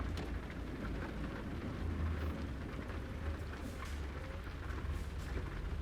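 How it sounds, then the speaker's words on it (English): Rain falls on a truck cab while driving in Missouri, a faint, steady wash of patter over low road rumble, continuous and even throughout. "And it's raining, so it kind of helps."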